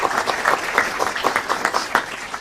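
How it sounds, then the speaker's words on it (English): A conference audience claps for a group of panelists at an inventor forum, producing a brief, close burst of steady applause with rhythmic individual claps standing out. "Give them a round of applause here."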